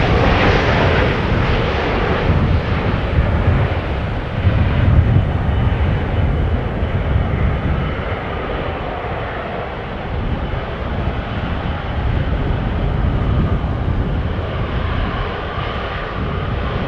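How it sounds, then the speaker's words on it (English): KLM Boeing 737-800 jet arriving at Amsterdam Schiphol from Manchester in breezy post-storm weather, a loud, close engine roar that swells early, eases slightly midway and rumbles on steadily to the end, with no talk. "This is KLM flight 1074 arriving from Manchester,"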